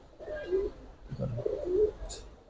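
Pigeons, a pair of colored fancy birds at a pigeon market, coo softly nearby in two low, rolling phrases.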